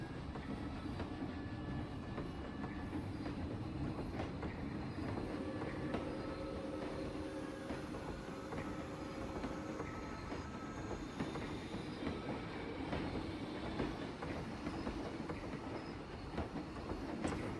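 In the theme-park builder Planet Coaster, a steam train rolls steadily along its track with continuous rumbling, clickety-clack wheel rhythm and faint squeals, heard close and sustained throughout with no talking.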